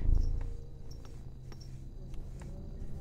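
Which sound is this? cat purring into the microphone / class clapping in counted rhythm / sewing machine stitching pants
cat purring into the microphone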